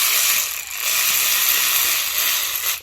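A hose clamp is tightened on a Procharger supercharger intake, giving a few close, dry ratcheting clicks in quick succession with no talking.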